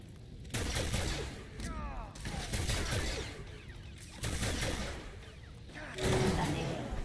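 Republic troopers open fire in a Star Wars game, with sustained bursts of rapid blaster fire in loud waves separated by brief pauses and layered with mechanical clatter and voices.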